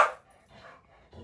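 A single short bark from a blue heeler, also called an Australian cattle dog, heard close up and fading quickly into a faint tail.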